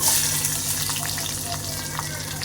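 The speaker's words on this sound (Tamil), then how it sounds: "கொஞ்சம் நல்லா வதங்கணும் வெங்காயம்" Small shallots sauté in a pan for vatha kuzhambu, giving a steady, moderate sizzle with occasional soft stirring sounds.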